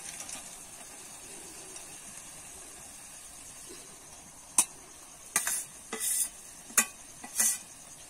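Banana flower curry with fried chickpeas, coconut pieces and potato being stirred in a pan, a faint background sizzle broken in the second half by several sharp spoon scrapes and knocks against the pan.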